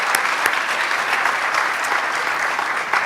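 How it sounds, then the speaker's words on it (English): An audience at a Green Party lecture in Markham–Stouffville applauds its volunteers, with loud, dense, sustained clapping filling the room and no speech over it. "Let's give them another round of applause."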